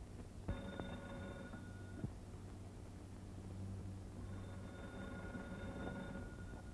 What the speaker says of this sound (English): The telephone bell is ringing.